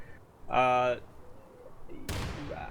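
A grenade explosion during a competitive video game match on the Heights map: a brief shouted voice, then one sudden loud blast with a trailing rumble.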